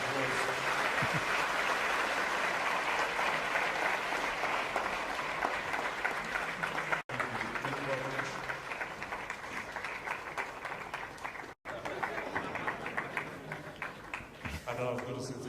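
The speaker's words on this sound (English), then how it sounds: "Ladies and gentlemen, the Sadhguru, a round of applause." Audience applause fills a large talk venue after a guest is introduced, dense steady clapping that carries on for about fifteen seconds with brief dips, while a voice speaks over it.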